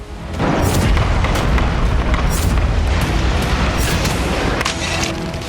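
Israeli shelling in Gaza, a loud, sustained rumbling roar of explosions with deep booming blasts rolling together for several seconds, close and heavy, with no voices.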